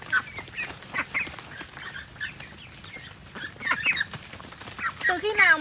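Ducks kept in a pomelo orchard to eat snails give off scattered quacks and bird calls at moderate distance, mixed with other fowl and outdoor background, with brief voices and no clear talk.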